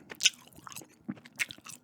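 Close, crisp mouth sounds of gum chewing in an ASMR session, with scattered wet smacks and small crunchy bites at an irregular pace, no talking.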